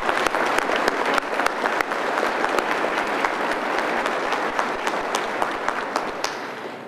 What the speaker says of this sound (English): Please join me again in a warm round of applause in celebration of our